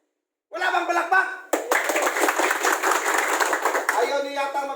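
Audience applause at a crayfish farming talk, starting abruptly with a short burst of clapping, then swelling into dense, sustained clapping from a crowd that fades slightly near the end.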